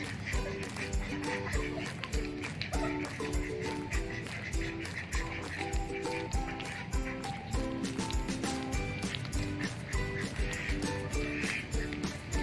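Ducks quack steadily in a village yard, repeated nasal calls over a constant rhythmic background clatter, fairly faint and close with no one speaking.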